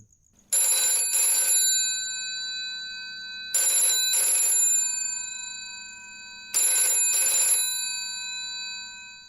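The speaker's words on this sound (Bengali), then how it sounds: "ক্রিং করে ফোনটা বেজে উঠে আমাকে বেশ চমকে দিল" A telephone bell rings in three separate bursts, each a quick double ring, loud and close, with short quiet gaps between them.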